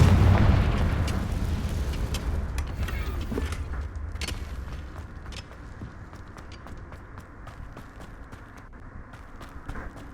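A Confringo spell explosion in the video game Hogwarts Legacy: a heavy, booming blast opens loud and close, then decays into a long rumbling tail with scattered clicks and thuds.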